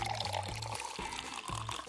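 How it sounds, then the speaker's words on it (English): Dissolved clear gelatin mixed with water is poured into a container to form layers. A close, continuous liquid pour is broken by a few short gurgling bursts. "Pour the gelatin into a container to make layers."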